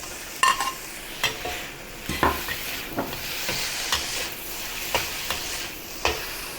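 Cucumber stir-fried in a hot wok for vegan Kung Pao mushrooms, with a steady sizzle and repeated sharp scraping strokes of the spatula at an even rhythm, close and fairly loud, no voices.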